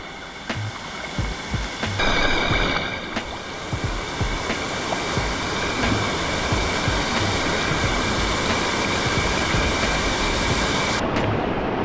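A waterfall at Rock Island State Park rushes in a dense, steady roar of flowing water, loud and continuous throughout, with a few brief knocks and clicks near the start.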